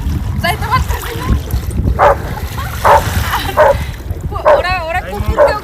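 A dog being bathed in the sea gives repeated short yipping barks at an uneven rhythm, with splashing water and people talking nearby.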